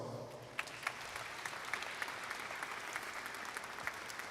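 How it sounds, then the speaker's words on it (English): Graduating students at a 2020 high school ceremony applaud their parents: a soft, sustained patter of many hands, heard at some distance, with a few sharper individual claps popping out. "But students, how about giving your parents a round of applause?"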